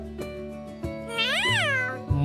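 A cat in the video game Doraemon Story of Seasons lets out a long, rising-and-falling meow, clear and alone, with a few soft clicks before it.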